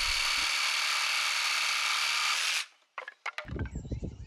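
A power tool cuts through a wooden beam for a sauna birdsmouth joint, a loud continuous high whine held for about two and a half seconds, then stopping, followed by a few knocks and handling thumps.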